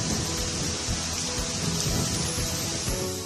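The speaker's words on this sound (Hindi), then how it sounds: "दिल्ली एनसीआर के कई इलाकों में आज सुबह झमाझम बारिश हुई" Heavy morning rain pouring down over Delhi NCR, a dense, steady, loud hiss throughout with deeper rumbling swells underneath and no voices.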